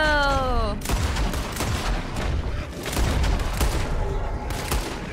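Gunfire in Red Dead Redemption 2 cracks out in a rapid, loud barrage of close shots after a brief falling tonal sound at the start, continuing steadily to the end.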